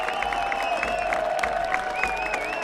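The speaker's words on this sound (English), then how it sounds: "Huge applause for the players as they come off for a job really well done" A stadium crowd at a Monterey Bay FC versus Phoenix Rising FC soccer match applauds and cheers substituted players coming off, a steady wash of noise with a tonal melody line running through it.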